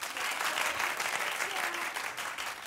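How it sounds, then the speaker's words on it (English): A studio audience claps steadily for the whole stretch, a dense, even wash of applause with no voices over it. "Clap if you want to see it."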